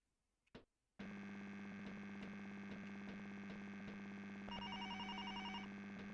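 Telephone ringing in the Amiga video game Clever & Smart: after a short click, a steady electronic ring tone with a buzzing hum sounds continuously and loudly, growing slightly brighter near the end.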